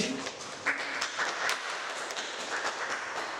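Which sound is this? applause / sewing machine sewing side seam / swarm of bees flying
applause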